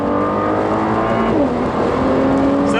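Cabin-side drone of a 2017 Nissan GT-R with a Stage 4 Litchfield upgrade making 675 bhp, pulling steadily at part throttle on an open road, its loud harmonic engine note rising and shifting without letup.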